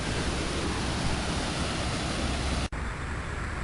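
Floodwater pours out of a seaside park during heavy rain in Townsville, a steady loud broadband rush with no talking, broken by a brief cut near the end before the roar resumes.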